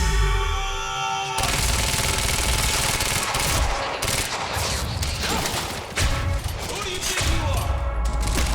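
Sustained gunfire in the video game Quantum Break, dense overlapping bursts filling the clip after a short musical lead-in, loud and continuous with no clear breaks between shots.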